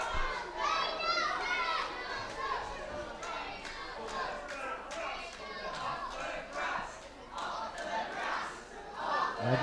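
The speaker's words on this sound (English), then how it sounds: "There go the crowd again and again." A noisy live crowd at a Lancashire wrestling event shouts and yells continuously, loud and close, with many voices including children's cries rising and falling throughout.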